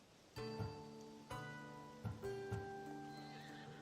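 A horse in the video game Assassin's Creed Odyssey neighs loudly several times with bright, tonal whinnies, mixed with hoof clip-clops and a soft rustling background.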